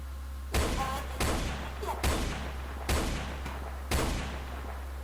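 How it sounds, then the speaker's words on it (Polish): Gunfire in the Roblox game Brookhaven: five sharp, evenly spaced shots ring out roughly one second apart, each with a brief tail, over a quiet low hum. "strzały walimy"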